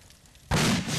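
A sudden loud blast cuts through quiet background halfway through as a vehicle explodes in the military video game Arma 2, and the roar holds to the end.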